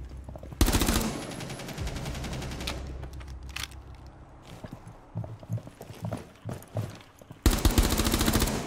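Gunfire rings out in Rainbow Six Siege: a long burst of rapid automatic shots, then scattered single shots and footsteps, and another loud burst at the end.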